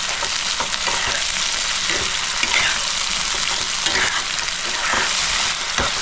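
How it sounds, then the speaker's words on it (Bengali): Chopped tomatoes stirred into chicken gizzards frying in a pan, with a steady, loud sizzle running throughout and the scrape of a spatula breaking through in repeated stirring strokes. "আমি এই 2টো টমেটো কুচি করে রেখেছি, সেটাও দিয়ে দিলাম, দিয়ে মিক্স করে নিচ্ছি।"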